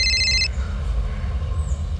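A telephone gives one short, bright electronic ring burst at the very start, then falls silent beneath a low background rumble.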